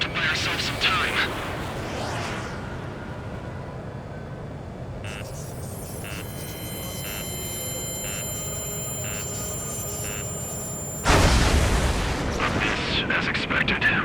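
A railgun energy weapon fires in the Ace Combat 7 flight game: a sudden loud heavy blast erupts over steady jet engine rumble and radio chatter, alongside faint electronic warning tones.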